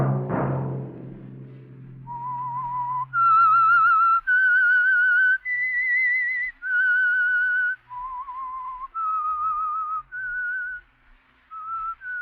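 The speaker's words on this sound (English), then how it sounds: "Let that whistle be your signal for the Signal Oil program" A lone human whistler carries the eerie theme melody of The Whistler, a 1947 radio drama, in clear sustained notes with short breaks, after a brief low musical chord.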